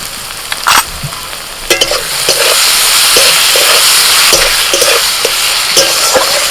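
Chopped tomato with ginger, garlic and green chilli paste sizzles steadily in hot oil in a pan for mushroom biryani, a continuous close crackle broken by a few soft stirring knocks.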